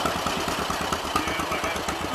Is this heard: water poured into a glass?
no